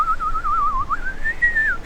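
A clear, close whistled melody wavers up and down for about two seconds, rising to a sustained higher note before stopping.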